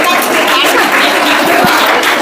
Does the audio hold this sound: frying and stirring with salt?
no